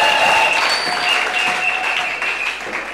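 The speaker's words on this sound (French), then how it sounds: "Est-ce qu'on peut acclamer le Seigneur?" Church congregation applauding the Lord during a Sunday worship service, steady dense clapping from many hands sustained throughout, with faint tones ringing over it and no clear speech.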